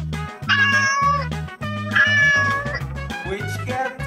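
A cat meows repeatedly, loud and close, with drawn-out, rising and falling calls over a low, steady, buzzing backing.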